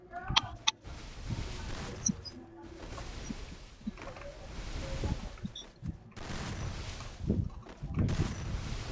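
Bursts of gunfire from a shooting video game crackle in irregular volleys, some sharp single shots and some rapid strings, mixed with game effects and occasional voices.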